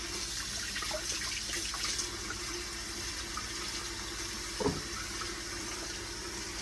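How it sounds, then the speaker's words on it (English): Water runs steadily from a kitchen tap while potatoes are rinsed, a continuous even splash with one brief clunk partway through and no talking. "Now I gotta do my potatoes, which I gotta rinse and peel."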